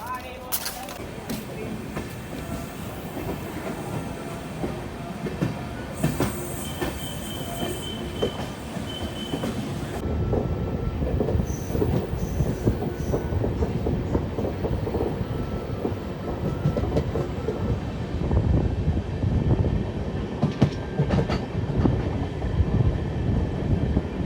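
Amrit Bharat Express passenger train on its inaugural Saharsa–Amritsar run via Saharanpur, a steady loud rumble of wheels on rails with continuous rolling noise growing heavier in the second half, and voices talking over it.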